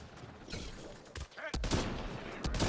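Gunfire from the video game Mass Effect Andromeda, a few sharp shots cracking out in quick bursts over busy game ambience, with a brief lull in between.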